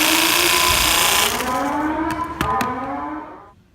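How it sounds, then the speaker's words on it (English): A drill-powered percussion massager whirs steadily with a rising harmonic whine, then slows and winds down with a few clicks before stopping. "the updated version of my percussion massager"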